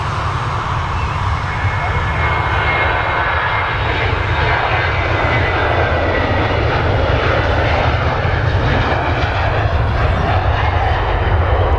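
A Jet2 Boeing 737 jet takes off at Manchester Airport, bound for Lanzarote, its engines producing a loud, steady, broadband roar that fills the whole stretch without letting up.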